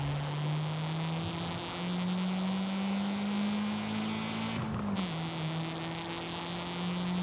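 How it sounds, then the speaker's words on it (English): A Mazda Miata engine in the Forza Horizon racing game holds a steady, droning note as it echoes off city buildings, with one brief shift in pitch partway through as the engine changes tone. "Listening to the Miata engine echo off the city"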